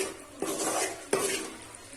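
A spoon stirs thick tapioca and dried mango curry in a pot, two distinct scraping strokes against the metal over a soft bubbling sizzle, close and steady.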